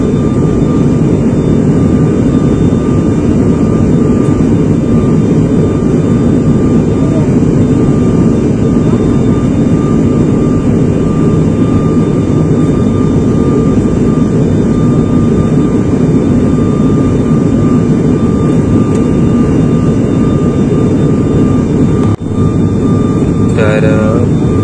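Inside an airplane cabin during a flight, the engines give a loud, steady, unbroken roar and drone throughout, with a few brief clicks near the end.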